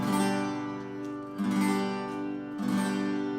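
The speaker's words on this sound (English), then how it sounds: "We're going to take our pick that we're holding like that and strum all the way down." Three guitar chords strummed downward one after another, each ringing out fully before the next stroke, close and clear.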